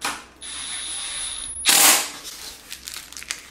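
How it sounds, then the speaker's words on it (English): A screwdriver and a wrench are dropped into the tool holder of a heavy-duty adjustable wooden workbench: a steady whine, then one sharp metallic clatter, followed by faint small knocks, close by with no talk. "Throw the wrench on the back, and then throw the screwdriver in the front."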